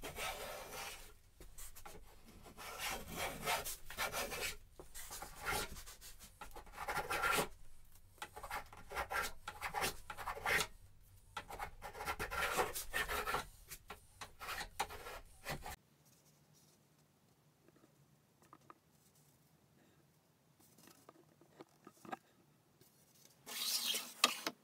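A furniture maker works bevels into a wooden longsword blade, close rasping and rubbing strokes in uneven bursts, then a quiet stretch before a final short scrape.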